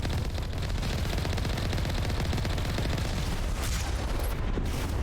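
Rapid automatic weapon fire from the video game Mass Effect, a dense, continuous stream of shots with heavy low booms running loud and steady throughout.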